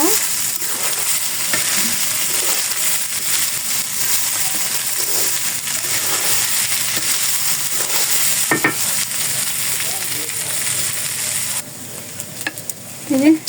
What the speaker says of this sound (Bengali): এখন এই যে লবণ দিয়ে দিলাম, এখন শুধু ভেজে নেব।